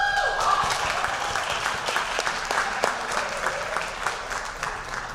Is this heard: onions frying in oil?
no